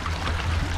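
Water runs and pours steadily off a large, heavy ammonite fossil as it is hauled out of a stream in Texas, a loud, continuous splashing stream close by with no talk.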